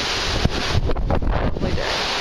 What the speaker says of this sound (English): Let's see how the waves are right now.